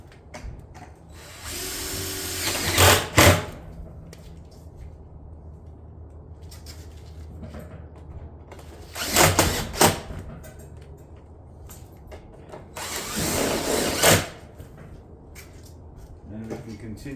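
A power driver sinks 2.5 inch panel screws through shingle ridge caps into roof decking, with three loud bursts of whirring spaced several seconds apart against quiet outdoor background and faint talk.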